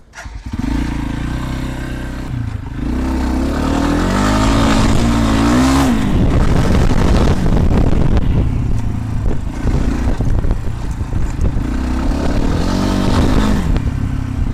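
A Loncin 250 Ralli motorcycle rides through a forest, its engine loud and close with rising and falling revs. It opens with a steady idle, then climbs into several throttle bursts and labouring pulls that continue to the end.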